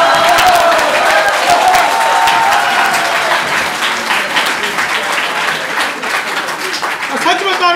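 Audience at a Hindi comedy poetry show (hasya kavi sammelan) breaks into loud, sustained applause, dense clapping that gradually thins and softens over several seconds.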